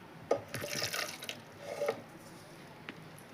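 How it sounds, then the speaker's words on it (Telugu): Water is poured into a mixer jar holding carrot for carrot milk, a few short splashing bursts with brief trickles, close and fairly quiet, with no talking. "ఈ వాటర్ కూడా వేసేస్తున్నానండి"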